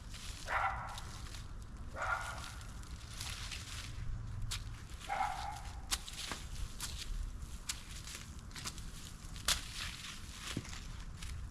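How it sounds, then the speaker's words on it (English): A neighbor's dog barks a few times in the distance from a balcony, faint and spaced out, over a steady garden background with occasional rustling and soft footsteps while weeding. "My neighbor's dog is barking."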